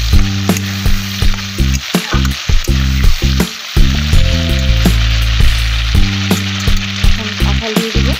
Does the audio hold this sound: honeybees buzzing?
no